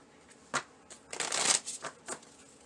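A deck of cards being shuffled up close: a few quick riffles and taps, then a fuller flurry of fluttering cards.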